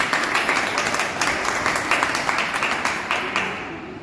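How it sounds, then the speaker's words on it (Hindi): Enthusiastic applause from an audience at a company business-plan meeting for a research firm, a continuous loud wash of many clapping hands that tapers off slightly near the end. "एक बार जबरदस्त ताली बजाएं"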